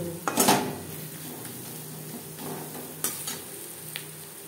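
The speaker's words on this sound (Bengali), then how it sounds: "লবণ হলুদ দিয়ে পেঁয়াজ লালচে করে ভেজে নেব।" Onions frying with salt and turmeric for a stir-fried greens dish: a steady close sizzle broken by a few sharp scrapes and clinks of a utensil stirring against the pan, with no talking.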